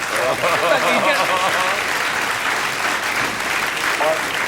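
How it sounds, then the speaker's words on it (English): A 1988 Australian TV variety show studio audience gives sustained applause, a loud, even wash of clapping with voices and laughter faintly running through it. "Thanks for that round of applause, too."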